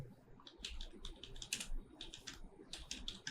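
Fingers type on a computer keyboard into ChatGPT, a quick run of soft, close key clicks in uneven bursts against a quiet room.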